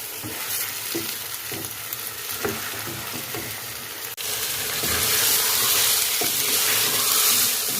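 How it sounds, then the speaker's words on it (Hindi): Mutton frying with spices in a pot, for a mutton cauliflower and cabbage curry, sizzles steadily while a spoon scrapes and stirs in irregular strokes; after a brief clunk midway the frying swells into a louder, hissing sizzle. "मसाले के साथ गोश्त को भून लूँगी थोड़ा सा"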